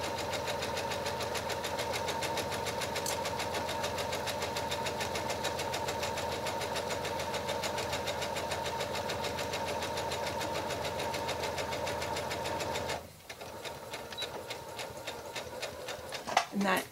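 A sewing machine runs a continuous stitching seam close by with a fast, even mechanical whir, then stops abruptly for a reverse stitch, leaving quieter clicks and handling sounds.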